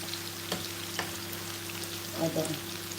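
Food frying in palm oil for a Ghanaian cocoyam leaf dish, a low steady sizzle with a faint hum and a few small crackles, close up, with a brief murmur of voice near the end.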